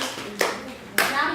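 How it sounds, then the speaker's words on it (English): Children clap for themselves in a classroom talk on cyberbullying: two sharp, separate claps about half a second apart, with faint children's voices around them. "Clap for yourself."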